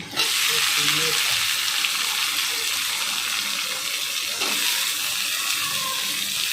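Chopped onion hits hot oil in a pan that already holds garlic and sets off a steady, loud, bright sizzle that runs unbroken throughout, with no talking.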